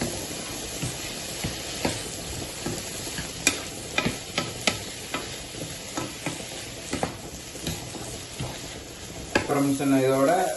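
Spices stirred and fried in a hot cooking pan after salt and turmeric powder go in: a steady sizzle broken by repeated scraping strokes of a spoon, close and fairly loud, with a brief voice near the end.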